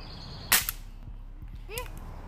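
A single sharp, close gunshot crack fired at a large tarantula outdoors, followed by a faint click and a brief chirping sound a moment later.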